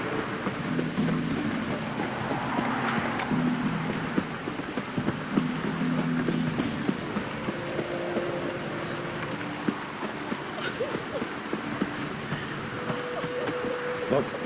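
Pouring rain in The Witcher 3, a dense steady hiss of downpour filling the whole stretch, with faint low rumbles and scattered tonal game sounds beneath it.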